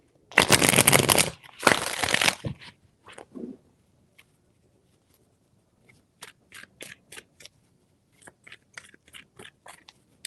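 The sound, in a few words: shuffling tarot cards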